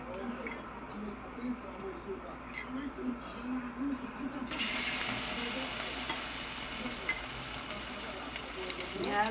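Kangkong (water spinach) hits a smoking-hot pan and fries, a quiet hiss that jumps to a loud, steady sizzle halfway through, with light stirring clinks and a voice talking over it.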